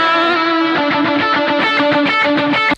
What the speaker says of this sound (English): Let's turn it to soft tube